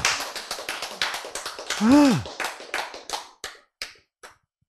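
A small group claps in a short burst during a Bible lecture, the claps sparse and uneven, thinning out to a few last taps, with a brief voiced sound in the middle.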